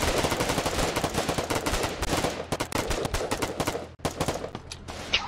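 Video game gunfire fills the clip with dense, rapid bursts of loud machine-gun shots laying down suppressive fire. The shots come in sustained volleys and break off briefly near the end.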